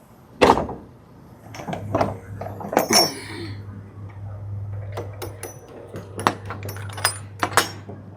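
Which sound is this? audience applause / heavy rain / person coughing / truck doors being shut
truck doors being shut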